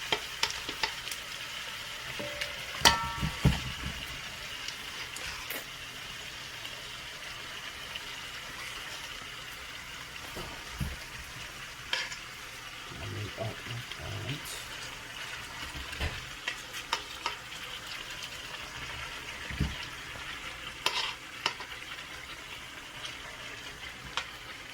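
Chicken for a Jamaican curry fries in a pot with a steady sizzle. Intermittent stirring knocks and scrapes come through over the hiss.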